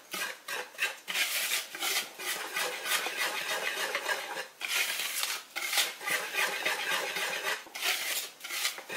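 Chai spice pancake batter mixed in a bowl gives repeated scraping and clinking strokes in a steady rhythm, close and fairly loud, with a few brief pauses.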